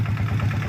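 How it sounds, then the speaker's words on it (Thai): A rotary tiller tractor engine runs steadily at a low, throbbing idle, close and continuous with no voices. "น้องๆเพิ่นกำลังขับรถไถมานะ"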